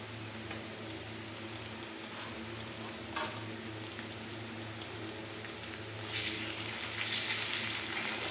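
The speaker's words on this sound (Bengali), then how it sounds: "এইভাবে মশলাটা কষিয়ে নেব" Chicken pieces sizzle in a pan with ginger-cumin paste masala, with steady crackling frying, scattered clinks and stirring scrapes, and a louder burst of sizzle near the end.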